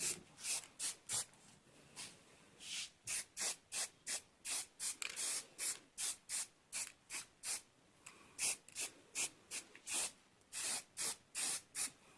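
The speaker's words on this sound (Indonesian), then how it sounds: "Ini waktunya ngecat ya, pakai cat semprot aja." A spray paint can applying paint to a bicycle, fired in many short, rhythmic hissing bursts with brief gaps between them, close and clear with no talking.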